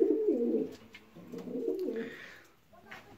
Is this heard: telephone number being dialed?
no